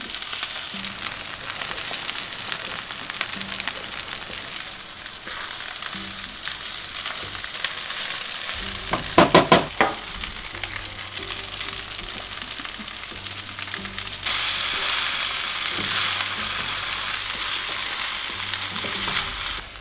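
Eggs frying in oil in a hole in the middle of rice for wild pork fried rice, cooked outdoors, giving a steady, close sizzle throughout with a few brief clanks of a utensil and no talk.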